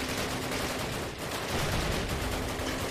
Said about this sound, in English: Oh my god, that fire is really close.